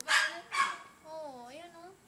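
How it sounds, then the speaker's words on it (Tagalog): A puppy gives two sharp, bright barks close by, followed by a higher, wavering whine or yelp, with a person's soft voice nearby. "Gusto mo tumahol, ha?"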